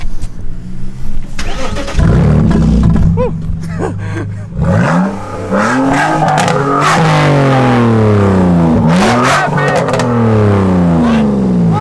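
Car engine cranks and catches, then revs repeatedly in rising and falling sweeps, loud and close, with people talking and reacting over it.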